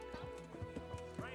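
A horse in the video game Kingdom Come Deliverance, its hooves clip-clopping in a slow, regular rhythm over a steady background hum of game ambience.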